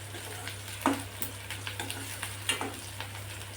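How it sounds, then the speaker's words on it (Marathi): Onion sautéing in a pan sizzles softly and steadily, with a few clicks and scrapes of stirring in a quiet kitchen. "कांदा थोडासा आपण परतून घ्यायचा"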